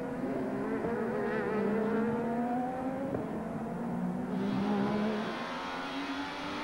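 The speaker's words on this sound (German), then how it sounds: "Wieder an Bord im Auto von Klaus Ludwig, im Zackspeed Opel Calibra." Onboard engine of the Zakspeed Opel Calibra touring car racing in the 1996 ITC round at Diepholz, a loud sustained high-revving drone with rising and falling pitch as the car accelerates and shifts, with no talk.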